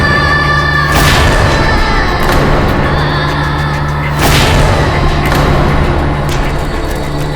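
Mughal cannons fire in two heavy booms about three seconds apart, each a loud close blast over a constant, dense roaring background, with no speech.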